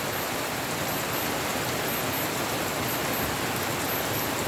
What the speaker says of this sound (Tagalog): Ulan sayo sa kabuntagon.